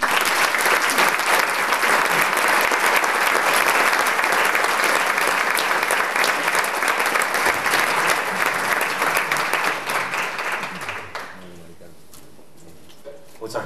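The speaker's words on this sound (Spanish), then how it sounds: "Recibamos con un fuerte aplauso a Víctor Iniesta Sepúlveda." An audience bursts into loud, sustained applause to welcome a speaker at a Holy Week programme presentation, dense clapping holding steady for about eleven seconds before fading out abruptly into quiet.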